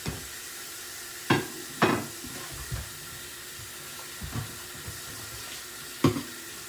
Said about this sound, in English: I'm going to rinse these off one more time